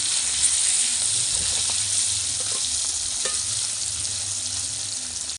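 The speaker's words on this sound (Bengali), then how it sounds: "তেলটা বেশ গরম হয়ে গেছে এবার এক এক করে মাছগুলি ভেজে নেব" Fish, katla, sizzles steadily in hot oil in a wok, a loud, continuous bright hiss with small crackles and pops, close up and without talk.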